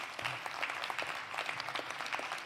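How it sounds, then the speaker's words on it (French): A crowd applauds with dense, steady clapping that holds at the same level throughout. "je vous donnerai quelques applaudissements, s'il vous plaît"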